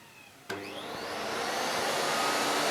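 Miele S4780 cylinder vacuum cleaner switching on at minimum power: a sharp start click followed by a steady, close motor whoosh that slowly builds and holds.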